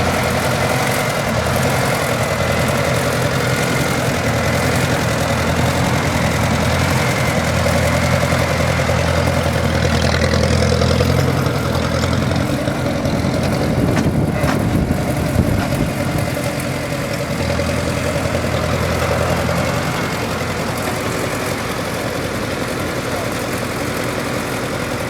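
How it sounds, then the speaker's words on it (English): A Farmall hot rod tractor engine runs steadily at a rumbling idle, loud and close for the whole stretch with a slight swell midway, and no talking over it. "here we go with a Farmall hot rod"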